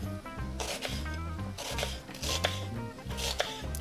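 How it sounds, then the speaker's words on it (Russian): Onion being finely chopped with a knife on a board, a steady run of close, crisp cuts over soft background music. "И нарезаю мелко лук."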